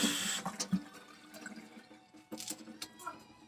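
Water runs from a kitchen tap over fresh cilantro herbs being rinsed, a faint, uneven splashing with small bursts as the bunch moves under the stream.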